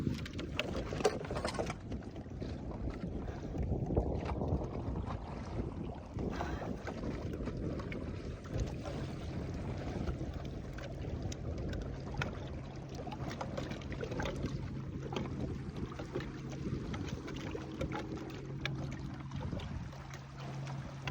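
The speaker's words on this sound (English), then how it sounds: "a stout northeast wind has produced a moderate swell for Lake Barkley" Steady rushing wind and water wash around a small sailboat on Lake Barkley in a northeast wind and moderate swell, with a constant low hum underneath throughout. No one speaks.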